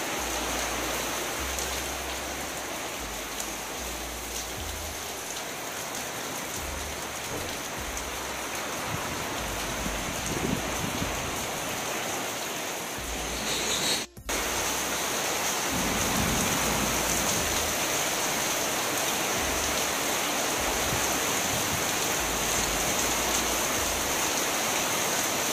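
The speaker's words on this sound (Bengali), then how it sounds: "ঝড়ের সাথে সাথেই বৃষ্টি নেমে গেছে" Heavy storm rain pours steadily outside a house with a garage, a dense continuous hiss of drops on surfaces that holds for the whole stretch with only a momentary dip.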